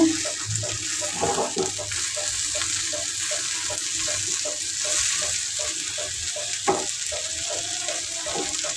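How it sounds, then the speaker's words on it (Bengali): Food frying in a pan makes a continuous moderate sizzle, with a few clattering stirs and scrapes breaking through now and then. "ভাজা হচ্ছে"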